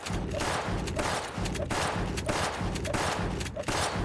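Reload slash shot gunfire in the online shooter Gunz The Duel: a steady, rapid stream of loud, dense gunshots fired in quick rhythmic bursts, with no gaps for talking.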